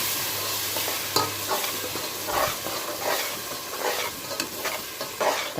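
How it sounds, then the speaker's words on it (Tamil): Ground tomato and ginger-garlic paste frying with browned onions for an empty (plain rice) biryani, giving a steady loud sizzle and hiss with occasional stirring scrapes and clinks throughout, no voices. "இந்த டைமில் அரைச்சி வச்ச தக்காளி, இஞ்சி பூண்டு பேஸ்ட் அதை அப்படியே ஊற்றிக்கிறேன்."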